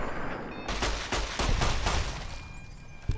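Benny's pistol from Fallout New Vegas fires a rapid burst of several loud, close shots in quick succession, each crack ringing out over a dense, noisy game background with no one talking.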